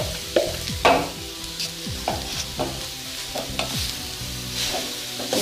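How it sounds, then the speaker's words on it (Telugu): Grated carrot sizzles in ghee in a kadai while a spoon stirs it, giving repeated scraping strokes over a steady close frying hiss, with no voices. "ఇందులో తురిమి పెట్టుకున్న క్యారెట్ వేసుకోవాలి."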